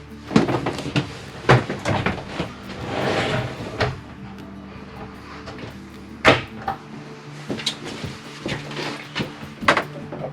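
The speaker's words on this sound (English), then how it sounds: "Open that door back up." Door of a 2019 Forest River Cherokee Alpha Wolf travel trailer swinging open, with several sharp wooden knocks and clicks in a cramped interior, close and fairly loud.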